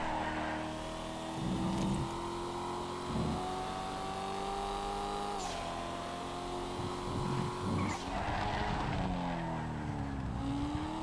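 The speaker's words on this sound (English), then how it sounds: "Lovely car, the Blackfin." Blackfin muscle car engine in GTA FiveM, a steady loud drone with harmonic whine and a few revving surges and shifts, continuous throughout.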